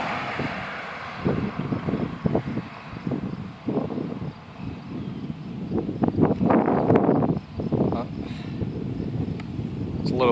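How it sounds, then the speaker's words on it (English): Strong wind buffets the microphone on a trail beside a water treatment plant, a continuous rumbling roar that swells and gusts throughout and masks most other sound. "A little windy up here, guys."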